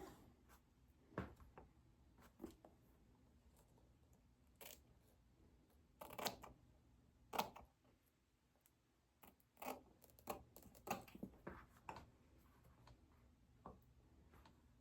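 Scissors snip through wig lace in quiet, scattered cuts, sharp little clicks spaced irregularly over a soft, steady background, with no voices.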